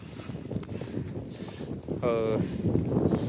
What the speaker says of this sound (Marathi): आणि तुफान वारा सुटला आहे.